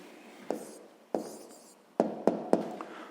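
A pen writes an answer by hand on paper, with a few sharp taps and short scratching strokes spaced irregularly, quiet and close in an otherwise silent room.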